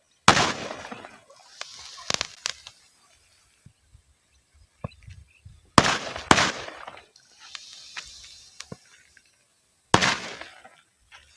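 Sodium metal pieces thrown into water burst in several sharp, loud pops at irregular intervals, a couple in quick pairs, with quiet fizzing and small crackles between them.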